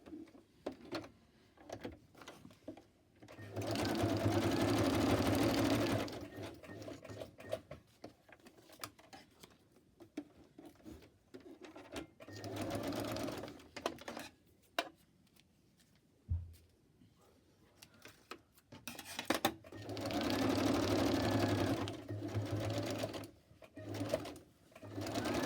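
A sewing machine zigzag-stitches down the centre of fabric scraps for an embellishment, running in several separate bursts of rapid mechanical whirring with quiet pauses, small handling clicks and a soft voice between runs.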